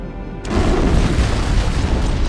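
An antimatter charge explodes aboard a ship in Halo: Combat Evolved, a sudden loud boom after a brief quiet start that rolls into a sustained, heavy rumbling roar lasting the rest of the moment.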